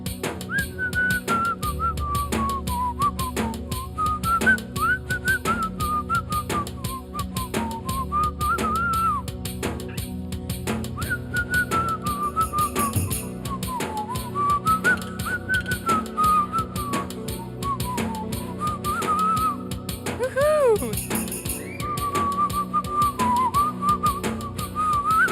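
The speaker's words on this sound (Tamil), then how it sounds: "அவ்வளோ அழகா விசில் பண்ணிக்கிட்டே போய் வாங்கிக்கோ" Someone whistles a wandering melody steadily throughout, the tune rising and falling in clear, sustained notes over a constant background hum, close and without talk.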